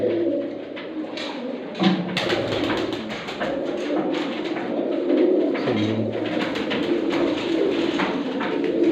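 Pigeons, including large grey birds, coo steadily in a room of a breeder's loft, the overlapping low calls continuing throughout with a few brief flutters and knocks nearby.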